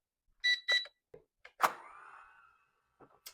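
A toy drone and its handheld controller chirp as they pair: two short electronic beeps, then scattered clicks and a brief falling tone, close by and quiet with no talking.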